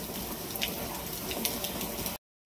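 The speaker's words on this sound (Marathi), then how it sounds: "बॅलरमध्ये पाणी लावलंय आता" Water runs steadily from a tap into a barrel, a continuous broadband splashing hiss that stops abruptly near the end.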